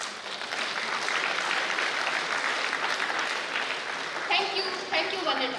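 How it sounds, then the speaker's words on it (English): Sustained audience applause at the inauguration of the Asian Journal of Professional Social Work, a steady dense wash of clapping that holds throughout with a few faint tonal sounds near the end. "give a big applause to her amazing success"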